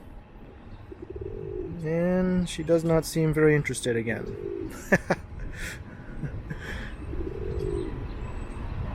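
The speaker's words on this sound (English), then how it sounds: "There's another Pimp Daddy pigeon putting the moves on the lady pigeon" Courting pigeons on a Toronto street give repeated low, bubbling coos, close by, in two or three bursts, while someone talks over and between them.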